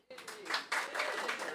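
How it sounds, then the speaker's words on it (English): An audience applauds at a sponsors' acknowledgment during an event, dense steady clapping starting abruptly and continuing throughout, fairly close and full. "We also like to give a big round of applause for CCG"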